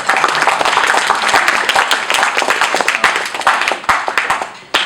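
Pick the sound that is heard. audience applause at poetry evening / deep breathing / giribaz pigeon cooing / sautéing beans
audience applause at poetry evening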